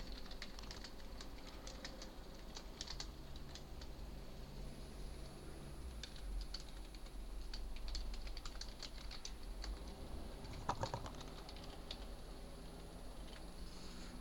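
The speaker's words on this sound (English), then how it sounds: "Type in the title." Keys clatter on a computer keyboard in scattered quick bursts while a title is entered into a PowerPoint 2010 slide, soft and close over a faint steady hiss.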